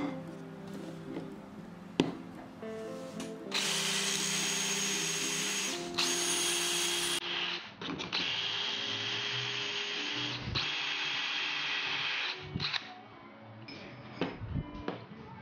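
Close, loud drilling of pocket holes in 18mm HMR board with a pocket hole jig, in steady whining bursts, one long run then another, separated by brief clicks and knocks of handling the board.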